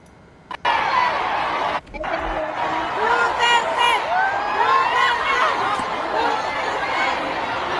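A Philippine political rally crowd shouting and cheering for Duterte, a busy mass of voices, chatter and some laughter from a large gathering, loud and sustained after a brief quieter start.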